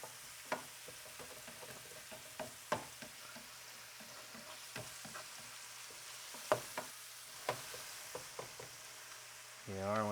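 Philly cheesesteak meat cooking in a frying pan over a natural gas stove, a faint low sizzle punctuated by sharp spatula clacks and scrapes at irregular intervals.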